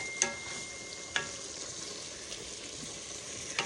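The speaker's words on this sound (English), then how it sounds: "We're sauteing them in some good butter." Chopped onions sauté in butter with a steady, quiet sizzle, broken by a few sharp utensil taps against the pan.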